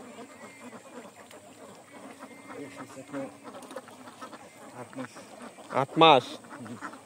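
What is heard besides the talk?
ducks quacking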